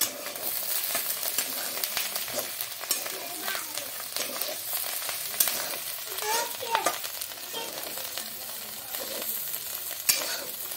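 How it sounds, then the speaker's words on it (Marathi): Dried shrimp stirred in a hot pan with salt, a constant crackling sizzle broken by repeated scraping strokes of a spoon, close and moderately loud, with no talking. "आता मस्तपैकी आपण याला हलवून घेणार आहोत"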